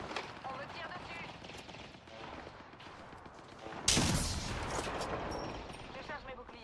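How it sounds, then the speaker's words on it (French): Gunfire in the video game Apex Legends, a burst of rapid shots breaking in sharply midway and continuing, heard under someone talking throughout. "On me tire dessus."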